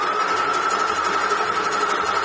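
Domestic sewing machine zigzag stitching mesh fabric along a leotard neckline, a steady close mechanical hum with a strong even whine and rhythmic needle chatter throughout.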